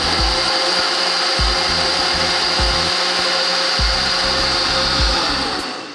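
A blender purees cottage cheese and egg whites with a loud, steady whir that fills the whole stretch, with low thumps pulsing underneath as the mixture churns.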